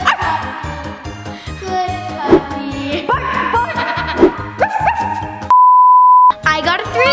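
A person imitates a dog's bark a couple of times during a giant board game, short yapping bursts set against loud, busy background music.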